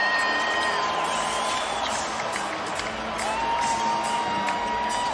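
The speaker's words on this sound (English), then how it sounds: "Crowd rises, 60 seconds remaining in regulation." Basketball arena crowd roaring and cheering in a steady mass of noise, with whistles and shouts rising out of the din.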